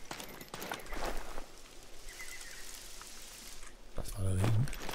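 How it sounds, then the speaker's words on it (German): Light rain patters steadily with scattered drops in the video game theHunter: Call of the Wild, with a few louder thuds and a brief German voice near the end. "Es regnet."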